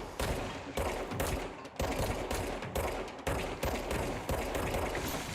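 Rapid automatic gunfire from the video game Control, dense loud bursts in quick succession with brief gaps between volleys, close and continuous, no talking.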